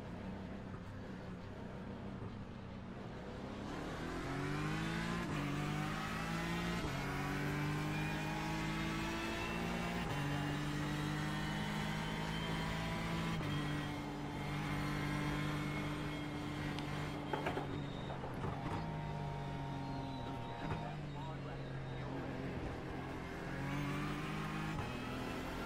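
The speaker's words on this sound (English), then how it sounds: "we like our Ford GT, the EcoBoost engine" A Ford GT GTE race car with EcoBoost engine in the iRacing sim, revving steadily through rising and falling gear changes, loud and continuous with other cars around, no talk.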